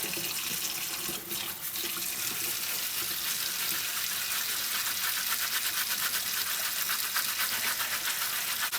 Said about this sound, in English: If you go at it with a decent, like, stiff bristle brush, like this fingernail brush, it comes off pretty easy.